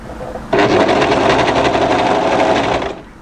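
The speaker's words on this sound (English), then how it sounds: "make sure that we overlock directly on the raw edges of our fabric" An overlocker runs at a fast, steady buzzing whir while serging the raw fabric edges of a sweatshirt, starting abruptly and stopping after a few seconds, close and loud.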